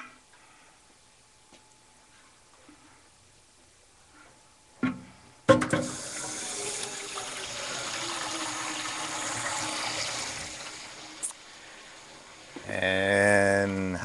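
Tap water gushes into a large pot being filled with 7 quarts for cooking, a steady broadband rush starting abruptly after a couple of clunks and running continuously, with a brief voice near the end.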